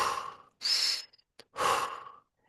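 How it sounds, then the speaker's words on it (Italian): Steady breathing exercise: a long nasal inhalation, a brief pause, then another drawn-in breath through the nose, close and clear with silence between breaths. "quindi ispirazione dal naso"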